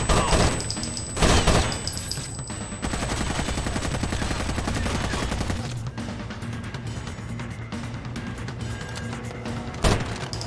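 Enemy gunfire in the tactical shooter Rainbow Six Vegas: loud rapid automatic bursts with sharp single shots at the start and near the end, a sustained rattling stretch in the middle, no talking.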